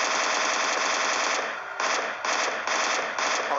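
Rapid bursts of gunfire from a video game weapon shot without a scope, loud and dense with short pauses between volleys across a few seconds.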